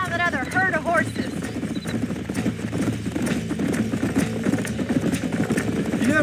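Horse hooves gallop in a steady clip-clop rhythm while riding in the video game Red Dead Redemption, with a neigh near the start and a busy game soundscape behind.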